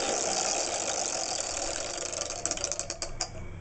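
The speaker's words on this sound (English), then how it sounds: "you better spin the wheel" A prize wheel spun in the Mega Fortune game gives a run of sharp ticks over a steady mechanical hum, the clicks slowing toward the end.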